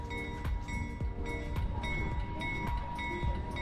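A train rolls past near the Rogers Centre in Toronto, with steady rumbling and a regular clack of wheels over rail joints repeating about every half second, loud and close throughout.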